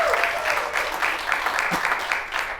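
Audience applause at a gathering, a dense wash of clapping filling the whole moment at moderate volume, with a faint voice briefly audible beneath it.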